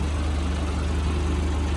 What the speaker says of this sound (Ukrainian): двигун працює чудово, тихесенько, рівномірно